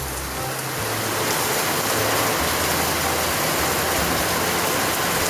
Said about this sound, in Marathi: खूपच जोरदार पाऊस चालू आहे